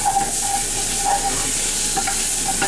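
Softened onions hiss loudly in a hot pan as they are stirred, a steady close sizzle broken by a few faint scrapes over a short stretch, with no voices.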